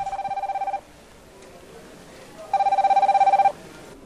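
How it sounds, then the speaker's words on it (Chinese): A smartphone rings with an incoming QQ video call, sounding two loud bursts of rapid, pulsing electronic trills separated by a quiet pause of nearly two seconds. "铃声响个不停，打来的可不是一般电话，而是透过通讯软体 QQ 打的视讯电话"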